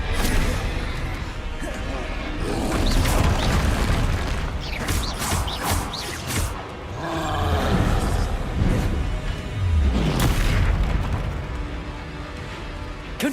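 Confringo blasting-spell explosions in Hogwarts Legacy, repeated booming bursts and crashes rolling over a roaring game soundscape, loud and continuous with swells, amid other combat effects.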